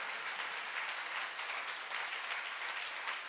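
A crowd at a Hindi-language sermon claps steadily and faintly, a soft even patter that holds throughout with no talk over it.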